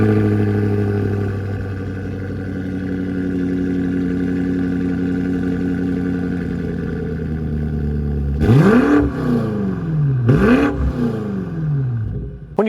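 A BMW M8 Competition idles with a steady, loud engine drone, then its engine and exhaust rev sharply twice, each rise climbing and falling back, with no voices.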